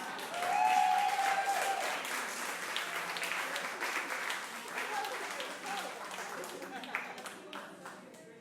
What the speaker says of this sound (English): Round of applause for Nessa.